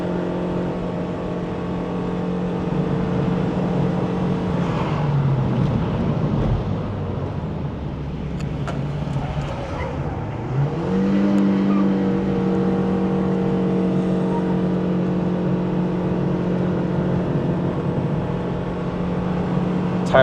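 A 2026 Proton Saga Premium with a CVT gearbox climbs a hill on the Genting road, its engine revving loudly and steadily, dipping briefly midway before the whine rises and holds again.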